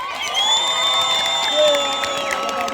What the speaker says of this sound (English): Can the guys please give a warm round of applause to every gorgeous woman up in here?